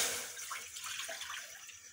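Water splashes and runs into a pan as a base for sugar syrup, a short soft gushing pour that tapers off.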